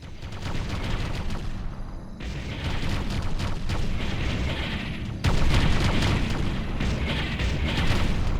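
Rumbling booms and dense crackling blasts as an enemy structure is destroyed in the Ground Control real-time strategy game, a loud continuous battle din that swells sharply midway, with no talk over it.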